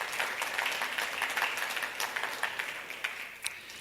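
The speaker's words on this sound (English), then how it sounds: "Let's give them a round of applause." An audience at an options industry conference applauds the event's organizing team, a dense, fairly quiet wash of many hands clapping that continues steadily and fades slightly toward the end.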